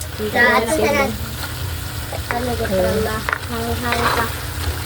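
Native chicken adobo with chili is stir-fried in a pan, giving a steady sizzle with scraping stirring sounds. People talk over the cooking throughout.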